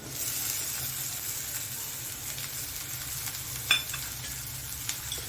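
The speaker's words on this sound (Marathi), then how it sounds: "आता आपण ह्याच्यामध्ये घालणार आहोत बारीक चिरलेला टोमॅटो" Finely chopped tomato sizzles in a pan with onion fried to a pink colour while making pav bhaji. It gives a soft, steady frying hiss at low volume, with an occasional clink of a stirring spoon.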